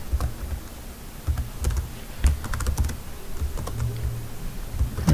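A computer keyboard being typed on to enter a file name: a steady run of close, quick key clicks in short bursts and pauses, with no voice over them.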